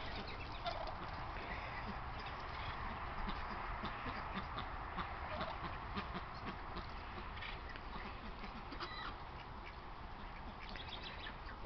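Backyard poultry such as ducks and chickens calling in a steady chorus of quacks and clucks, moderately faint over a constant outdoor background hum.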